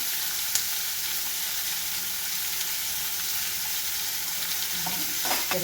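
Tomato, onion and ginger sautéing in a pan make a continuous loud sizzle, with spoon scrapes and clinks near the end as they are stirred.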